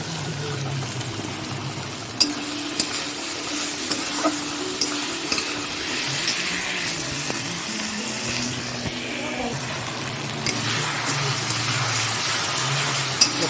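Spices, ginger-garlic paste, garlic paste, cumin, coriander, turmeric, chilli powder, garam masala and tomato sauté in a pan for chicken curry, a steady sizzle and bubbling broken by occasional spoon scrapes and clinks against the pan.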